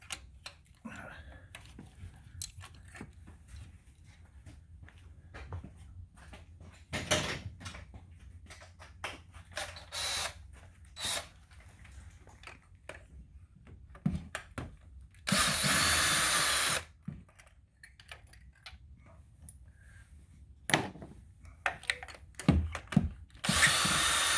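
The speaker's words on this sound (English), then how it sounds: "I'll use the hand drill to get them all the rest of the way out" Intermittent whirring bursts of a hand drill spinning out spark plugs on a 2010 Honda CR-V during a tune-up, with one longer loud run near the end, scattered clicks and handling noises between, close by.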